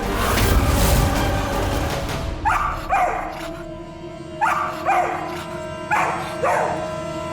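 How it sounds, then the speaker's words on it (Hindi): A dog barks in sharp pairs, several times with brief pauses between, close and clear over a quiet room after a burst of noise. "किस पर भौंक रहे हैं?"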